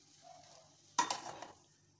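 A spoon or spatula stirring masala into veg hakka noodles in a pan, giving a short scraping, rustling burst that is close and fades within about half a second.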